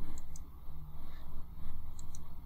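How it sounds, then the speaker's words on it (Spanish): A computer mouse gives two quick pairs of faint, crisp clicks over a low background hum. "Damos clic aquí en roles."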